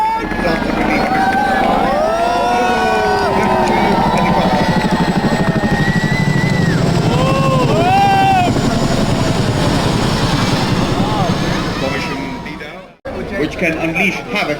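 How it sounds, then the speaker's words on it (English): A heavy-lift twin-rotor Chinook helicopter flies over a Republic Day parade, its steady rotor thrum loud and continuous for over twelve seconds before cutting abruptly, with crowd noise and whistling tones mixed in. "It is a heavy lift twin-rotor helicopter"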